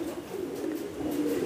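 Domestic pigeons kept for breeding, hen and cock, give a continuous low murmuring coo, steady and moderately near, with no talk over it.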